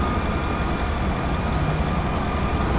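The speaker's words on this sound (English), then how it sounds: "Let's take a look at the engine running on this 2002 Dodge." A 2002 Dodge 2500 van's 5.2-liter engine, set up to run on compressed natural gas, idles in a low, even, continuous rumble with no voices over it.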